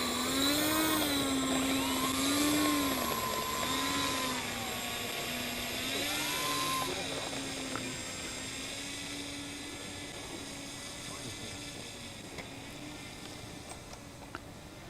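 A C-47 Dakota's radial piston engines drone steadily while taxiing on an airfield, a loud sustained roar with rising and falling pitch wobbles, gradually easing lower and quieter, with no talking.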